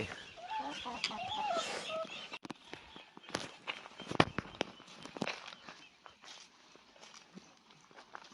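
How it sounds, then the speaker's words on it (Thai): Chickens cluck in a small farm garden in Nong Khai, Thailand, with a burst of close clucking at first, then scattered scratching, footsteps and clicks nearby. "ดูไก่ก่อน ดูไก่ ดูดิมันไข่ยังลูก"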